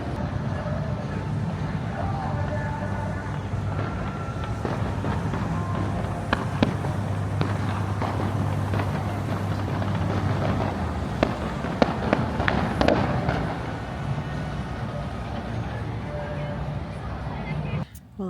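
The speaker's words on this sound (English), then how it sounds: "7:08, fireworks going off." Fireworks burst steadily at night near Universal's Stella Nova Hotel resort, a continuous rumbling barrage of pops and booms from a distance with faint crowd murmur underneath, building to denser crackles before easing off.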